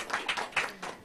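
An audience applauds to welcome a speaker at a National Assembly academic policy forum, with a short burst of scattered, fairly faint claps at an irregular rhythm.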